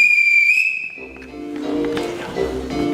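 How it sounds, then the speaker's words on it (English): A shrill whistle sounds loud and close for about a second, its pitch wavering slightly, then cuts off as voices and background sounds take over. "This is the emotion / accent replay on my whistle."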